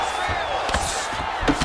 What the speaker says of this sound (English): the crowd pops in appreciation as the fighters work their way back to the feet